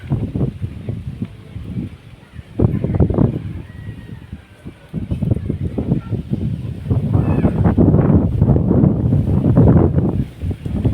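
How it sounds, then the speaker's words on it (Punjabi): Wind gusts blow outdoors near the mountains, buffeting the microphone in uneven, loud rushes that rise and fall over several seconds. "ਕੁਦਰਤੀ ਹਵਾ ਆ ਰਹੀ ਹੈ ਬਹੁਤ ਚੰਗੀ ਤੇ ਇਹ ਸ਼ੁੱਧ ਹਵਾ ਆ ਰਹੀ ਹੈ ਪਹਾੜਾਂ ਚੋਂ"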